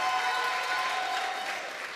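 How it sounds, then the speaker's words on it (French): A church congregation claps and cheers for a member recovering from a major operation, the dense applause steady and fairly faint for two seconds, tapering slightly at the end. "Est-ce qu'on peut lui offrir une petite acclamation là?"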